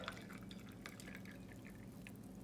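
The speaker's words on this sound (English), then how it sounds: "I just take this boiling water. I pour around" Boiling water is poured into a cup for preparing chia seeds, a soft, fairly quiet trickling splash with a few light drips over a steady background.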